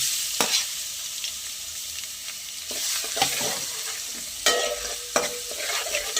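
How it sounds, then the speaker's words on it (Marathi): Garlic fries in hot oil, a steady close sizzle broken by several sharp scrapes and clinks of stirring in the pan, with no voices. "लसूण पूर्णपणे शिजवून घेऊया"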